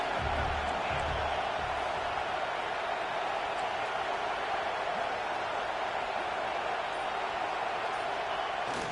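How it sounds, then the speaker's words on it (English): A college football stadium crowd at Iowa vs MSU roars steadily as the home team nears the red zone, a dense, distant-sounding wall of cheering that holds constant throughout. "this crowd is turning it up a notch"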